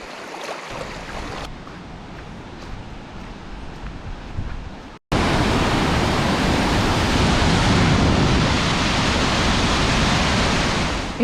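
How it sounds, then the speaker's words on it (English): Roaring rush of a waterfall along Long Plain Road in Kosciuszko National Park, first muted and farther off, then abruptly close and loud as a steady, dense broadband wash of falling water. "It's a waterfall."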